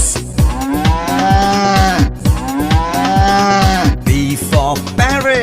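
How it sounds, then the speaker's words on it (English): An ox moos loudly and close by in a rapid, repeated series of deep, harmonic lowing calls with brief pauses between them. "O for ox."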